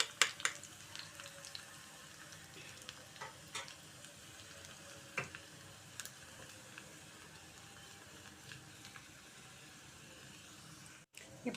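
Garlic cloves tempering in hot oil for a bottle gourd curry, a soft continuous sizzle with scattered small pops and ticks, faint and close, with no talking.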